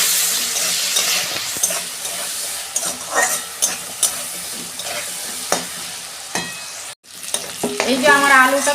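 Potato pieces fry loudly in a pan, a steady oily sizzle broken by repeated scraping stirs and spatula knocks, with a brief drop-out near the end before the hiss returns stronger.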